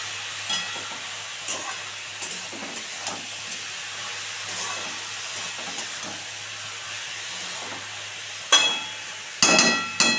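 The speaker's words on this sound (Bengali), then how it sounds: "এটাকে ভালো করে নেড়ে চেড়ে ঢাকা দিয়ে দেবো" Cabbage and fish head being stirred in a pan with salt, giving a soft steady hiss and faint scraping strokes, with a few sharper clatters near the end.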